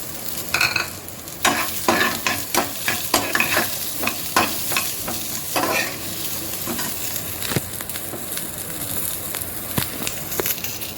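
Onions fry with asafoetida and cumin in a hot pan and are stirred, giving repeated scraping strokes over a steady close sizzle with crackles, and no talk.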